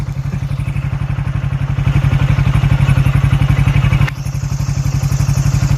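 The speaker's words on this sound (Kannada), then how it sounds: "ನನ್ನ ಗಾಡಿ ಬಹಳ ನರಕ ಪಡ್ತೈತೆ ಹೆಂಗೈತೆ ನೋಡಿ" A motorcycle labors up a rough hill road near a mountain pilgrimage site, its engine thumping in a fast steady beat, loud and close, with rattling clatter over the uneven track and no speech.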